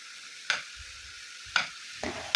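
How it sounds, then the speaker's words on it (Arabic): Drained cauliflower fries in a pan with a steady hiss, broken by a few short sharp bursts of sizzle and stirring about once a second, close up and with no talk. "ونرجع الشوفلور اللي صفيته هكا ونبدا نقلي فيه هكذا باش ينشف من الماء"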